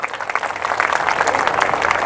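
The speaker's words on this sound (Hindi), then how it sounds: "उसके लिए जोरदार तालियां बजा दीजिए" An audience claps loudly for a gold medal winner from Balaghat during a New Year 2024 address, with steady, dense applause throughout the short stretch.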